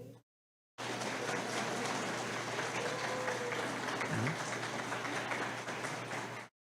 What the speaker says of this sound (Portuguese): eu gostaria de pedir uma salva de palmas para ela